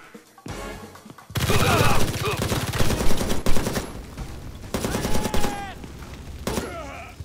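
Kalashnikov fire in the XIII remake, with loud bursts of rapid automatic shots in several volleys separated by brief pauses and a few scattered impacts.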